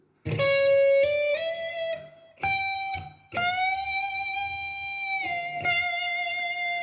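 Distorted electric guitar phrase of a few picked notes, one bent upward and held with sustain, played alone and up close.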